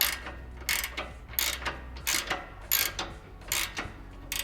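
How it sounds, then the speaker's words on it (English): A ratchet wrench loosens a nut on a Toyota Tundra shock absorber during removal for a rebuild: a close series of about seven quick clicking bursts in a steady rhythm, with no talking. "So what I'm gonna do is loosen this nut until it's just past the bolt."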